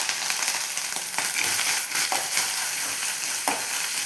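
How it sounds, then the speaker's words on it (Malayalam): Coconut pieces frying in coconut oil and ghee over a medium flame, a steady close sizzle and crackle with occasional stirring scrapes throughout. "ഇനി അതിലേക്ക് നമുക്ക് ഈ തേങ്ങാക്ക ഇട്ടൊന്ന് മൂപ്പിച്ചെടുക്കാം"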